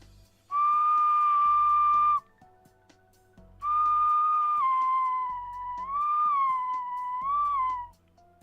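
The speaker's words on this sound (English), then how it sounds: "These are just whistles." Handmade clay whistles blown in long steady tones, first two sustained notes, then a longer one that wavers and bends in pitch, loud and close with short pauses between, no talking.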